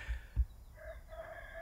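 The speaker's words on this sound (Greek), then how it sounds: "Τα κοκόρια έχουν αρχίσει να λαλούν" Roosters crow in the pre-dawn dark on a Greek island village morning, drawn-out calls at a moderate distance with a couple of soft low thumps, and no one speaking.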